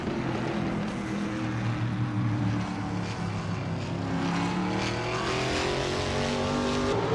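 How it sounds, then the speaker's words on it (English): Race car engines in a racing video game, with 2021 Ford Mustangs in the field, hold a loud, steady roar with layered droning engine tones that rise and fall gently throughout, with no voices. "Diddy Lines K is driving a 2021 Ford Mustang"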